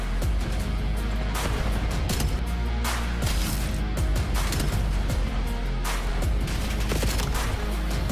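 Loud, dense Call of Duty gunfire and explosive blasts from a competitive league match, with sustained bursts and crashing impacts layered continuously throughout.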